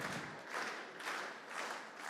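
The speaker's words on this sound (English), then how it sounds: "You can probably hear in the background the crowd getting a bit feisty." A crowd at a dairy cattle show cheers and applauds in faint, distant swells that rise and fall in waves, with no clear talking over it.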